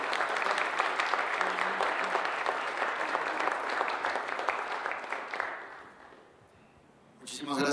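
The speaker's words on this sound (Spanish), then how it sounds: "quiero presentar y pedir un aplauso para recibir a este gran músico mexicano" Applause from the audience at a trumpet workshop welcomes a Mexican musician, dense and sustained clapping for about six seconds that fades out, and a voice comes in right after.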